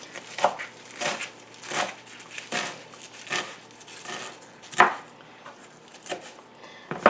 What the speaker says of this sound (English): So you can see how I chop through them